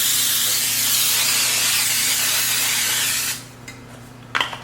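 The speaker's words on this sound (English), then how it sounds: "we are just going to spray the baking sheet with the baker's" A steady aerosol cooking spray hisses close up onto a baking sheet for about three seconds, then stops, followed by a few faint clicks and a brief rattle.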